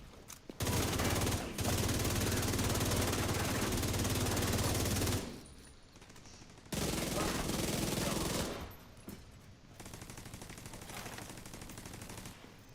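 Gunfire in The Division 2: long sustained bursts of automatic fire, loud and close, broken by short pauses and followed by quieter distant shooting.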